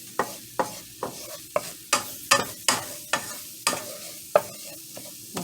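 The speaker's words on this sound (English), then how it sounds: "mix that around guys for 30 seconds or until you start to see the color change on it" A roux being stirred in a pan, with repeated scraping strokes in a steady rhythm, close and clear over a low sizzle.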